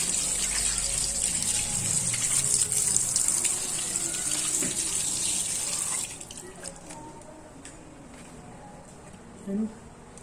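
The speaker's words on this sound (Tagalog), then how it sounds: "yung sili naman guys, hugasan natin" Chili peppers being rinsed under a running kitchen tap, a steady close splash of water hitting the sink for about six seconds, then the flow stops and only small drips and light handling noises remain.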